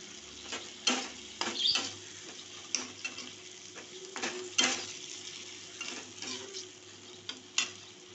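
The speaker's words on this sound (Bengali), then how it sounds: "হাফ চামচ লঙ্কার গুঁড়ো দিয়ে আমি এটাকে ভেজে নেব একটু, মশলাটাকে টমেটোর সাথে।" Masala of cumin powder, chilli powder and chopped tomato fried in a pan, with soft sizzling under repeated scraping and stirring clicks of a spoon against the pan, fairly quiet and close.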